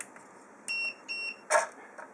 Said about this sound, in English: You can hear 2 beeps.